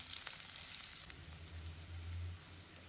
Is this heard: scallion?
yes